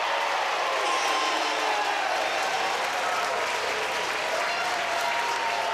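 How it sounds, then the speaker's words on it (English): Rugby stadium crowd applauding a try in a women's Six Nations match between Italy and Wales, a broad, continuous roar of clapping and cheering spread around the ground at a steady level. "the applause comes from around the ground because the crowd have seen it the same time as us"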